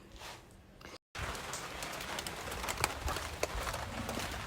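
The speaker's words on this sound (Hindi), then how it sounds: "बारिश हो रही है" Steady rain falls with a dense, even hiss and scattered sharper drop ticks. A brief gap of silence comes early, and then the rain continues alone with no talk.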